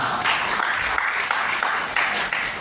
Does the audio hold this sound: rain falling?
no